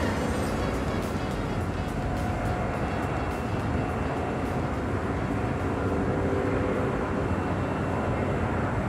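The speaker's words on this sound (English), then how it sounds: "The Lufthansa A350 getting ready for departure." A Lufthansa Airbus A350 airliner at LAX airport readying for departure: a steady, loud jet engine roar with broadband rumble, continuous throughout and heard from a moderate distance.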